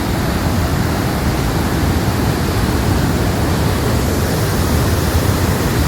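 Waterfall in a rain-swollen canyon in Tucker County, West Virginia, near Davis, roaring as a steady, dense broadband rush that holds unbroken and loud throughout, with no voices.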